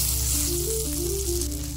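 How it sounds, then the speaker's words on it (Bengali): Giant taro paste fritters sizzle steadily in hot mustard oil, a close, continuous frying hiss with no talking over it. "তেলটি ভালোভাবে গরম হয়ে আসলে এইভাবে আমরা যে পেস্টটা বানিয়েছিলাম এটাকে বড়ার মতো করে ভেজে নিচ্ছি।"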